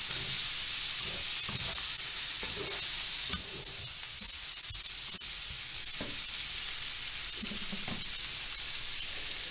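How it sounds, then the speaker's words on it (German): Onions caramelizing in a pan for duck breast with red cabbage, a bright continuous sizzle and hiss up close, broken by repeated scraping stirs throughout. "Mit den Zwiebeln fangen wir zuerst an. Die karamellisieren und geben später schöne Farbe."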